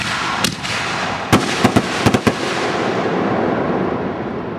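Backyard fireworks shoot into the sky. A quick cluster of sharp cracks and pops rings out over a steady outdoor hiss, mostly bunched in the first couple of seconds.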